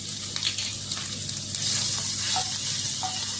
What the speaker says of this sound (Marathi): मी कढईमध्ये तेल टाकून घेतलेले आहे, तर त्यामध्ये मी अद्रक लसणाची पेस्ट टाकून घेते.